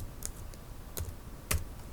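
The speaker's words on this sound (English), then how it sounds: "we're going to type sum" Sparse keystrokes on a computer keyboard while entering a formula in a spreadsheet, three distinct taps spaced about half a second apart, quiet and close, with no voices.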